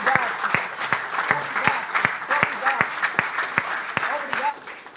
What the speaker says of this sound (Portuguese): Mas vamos dar uma salva de palmas a Jesus.